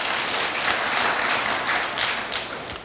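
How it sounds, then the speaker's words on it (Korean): A church congregation applauds steadily, a dense wash of clapping that holds at an even level throughout. "우리 서로 축복의 박수 한번 하겠습니다"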